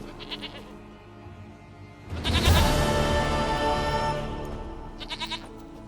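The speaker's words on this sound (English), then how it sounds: "Goat of mine, dearest, sweetest goat." A goat in The Witcher 3 gives a long, loud, quavering bleat up close, framed by faint short sounds before and after.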